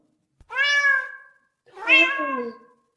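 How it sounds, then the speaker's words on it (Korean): A cat meows twice, clear and close, with a short pause between the two drawn-out calls. "고양이, 예, 야옹이"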